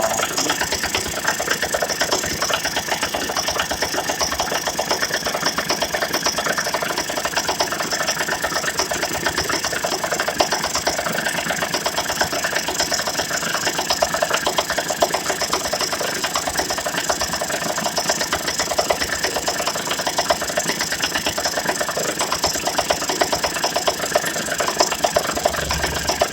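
Engine idling steadily just after a start, a continuous close, loud drone with a slight knocking texture and no talking throughout.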